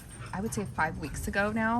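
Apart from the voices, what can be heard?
dogs barking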